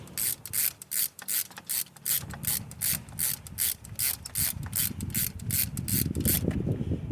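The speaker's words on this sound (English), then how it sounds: "So once you get down there, throw on your ratchet again." A ratchet tightening a spark plug on a Hummer H3 makes a close, rhythmic series of rapid pawl clicks in repeated bursts. Faint rubbing and low mechanical rumble fill the background.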